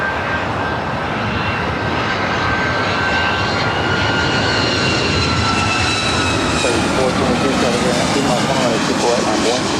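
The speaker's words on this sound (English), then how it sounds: "Let's head to the 757." A Boeing 757 airliner on short final for landing at Los Angeles gives off a steady, dense engine roar with a thin high whine on top, loud and continuous throughout, with a voice talking over it.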